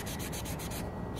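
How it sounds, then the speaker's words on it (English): Sandpaper rubs gently over the wood of a 1940s cedar chest, a steady, close scratching with a few quick back-and-forth strokes. Partway through, the rubbing pauses briefly before resuming. "Some gentle sanding and manipulation in areas that it will need it."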